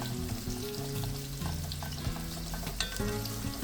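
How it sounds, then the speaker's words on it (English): Chopped onions fry slowly in a pan on low heat for a tripe dish, giving a steady, close sizzle with crackling pops and occasional stirring clinks. "I like them to brown, so I will cook them on low heat until they are golden brown"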